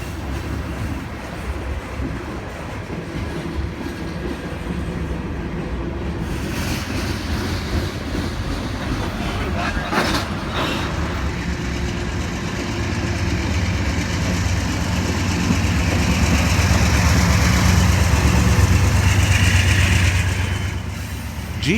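A Union Pacific freight train rolls through central Missouri with a GE AC44CW-CTE locomotive as rear distributed power, a steady low diesel rumble and wheel noise that swells louder as it nears, then briefly drops off.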